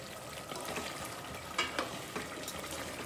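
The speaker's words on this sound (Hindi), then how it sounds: "और इसको अच्छे से भून लेंगे" Chili powder and tomatoes fry in a pan, a steady soft sizzle with occasional brief crackles and stirring scrapes throughout, quiet and close with no voices.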